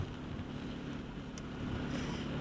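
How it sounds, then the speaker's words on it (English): Storm Desmond gales blowing in off the Atlantic along the Salthill seafront promenade, a steady roaring wind buffeting the microphone with constant hiss and no pauses. "Yes, Una, I'm coming to you from a very wet, very windy Salt Hill prom. The gales are still blowing in off the Atlantic Ocean here"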